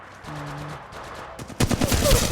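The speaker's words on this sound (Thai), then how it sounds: "ศัตรูกำลังยิงใส่ฉัน" Enemy gunfire in the mobile battle-royale shooter Apex Legends Mobile, a burst of rapid loud shots in the last second after a quieter stretch of game sounds, with no talk.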